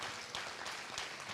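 Congregation applauding the Lord during a church service, a dense, steady wash of many hands clapping at once, faint and distant with no talking over it.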